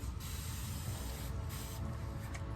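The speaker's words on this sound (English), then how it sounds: "our handy dandy Extend spray bottle" Fine continuous hiss of a water spray bottle misting hair, close and soft, with a few slight pulses as the trigger is squeezed.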